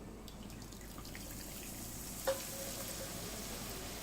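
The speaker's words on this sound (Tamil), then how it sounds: "ஓசை அடங்கினோடனே பூந்தி வெந்தாச்சுன்னு அர்த்தம்." Boondi batter drops frying in hot oil for a South Indian Diwali mixture, a steady close sizzle and bubbling hiss with a small clink of a ladle midway, no voices.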